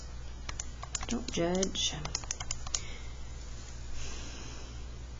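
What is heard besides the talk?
typing on a computer keyboard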